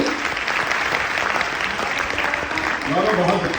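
Audience at a Hindi comic poetry gathering (hasya kavi sammelan) applauding steadily, a dense sustained round of clapping with some voices and murmur mixed in near the end.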